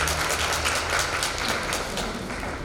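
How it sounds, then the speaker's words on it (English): Audience applause fills a seminar hall after an award tribute, dense steady clapping from many hands throughout, with a low hum underneath and no talk. "Let us clap for him once again."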